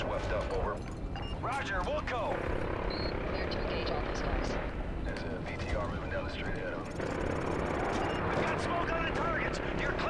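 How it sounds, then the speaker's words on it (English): A helicopter passes overhead in the Call of Duty Modern Warfare 3 video game, its steady rotor roar sitting under a dense battle mix with explosions and radio voices talking throughout. "Oh, that's a chopper."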